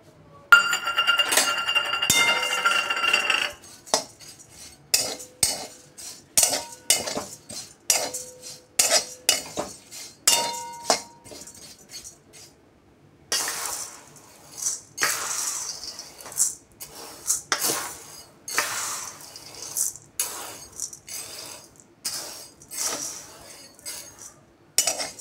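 Dry poha flakes being roasted and stirred in a metal pan, with a spoon scraping and clinking against the pan in repeated irregular strokes, close and fairly loud, with no talking.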